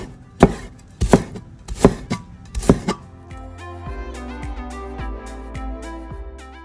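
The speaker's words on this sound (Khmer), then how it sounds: "Slice, then cut into julienne." A knife slices ginger on a cutting board in four sharp, evenly spaced chops, followed by music.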